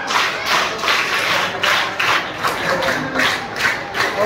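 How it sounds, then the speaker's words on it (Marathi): Students at a Teacher's Day school event give loud, rhythmic applause, a dense crowd clapping in pulsing waves that carry steadily from start to finish. "त्यांच्यासाठी जोरदार टाळ्या झाला पाहिजे"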